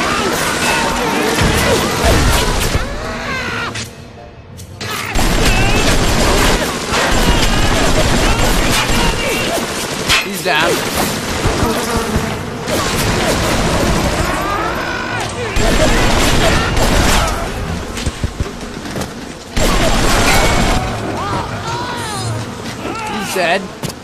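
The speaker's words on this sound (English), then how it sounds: "Throwing grenades at me and Ish." Grenade explosions and gunfire in the video game Bioshock, a dense, loud barrage of blasts and shots almost throughout, with a voice talking over the combat.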